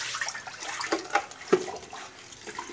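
Water poured and running over papaya leaves being washed clean by hand, a continuous splashing, trickling wash with small spatters, close and moderately loud with no talk.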